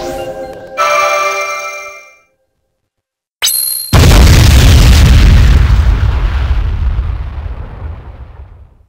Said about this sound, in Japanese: これを使ってあの街灯を爆破しよう。